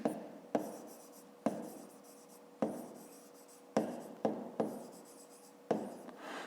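Pen writing out a fifth-grade math exercise in a notebook, quiet scratchy strokes in short bursts, each starting with a soft tap and trailing off, close and alone.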